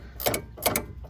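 A ratcheting socket wrench clicks in two short bursts of quick ticks, close and fairly quiet, during work on a sway bar end link of a 2016 Mazda 3.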